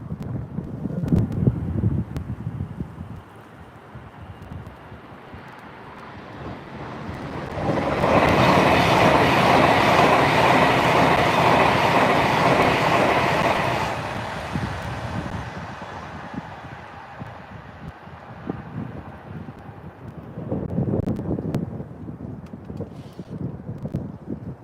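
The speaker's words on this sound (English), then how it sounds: "And here's your Avanti Class 390." An Avanti Class 390 train approaches and rushes past, building to a loud roaring swell with clattering wheels for several seconds, then fading away, with wind buffeting the microphone before and after.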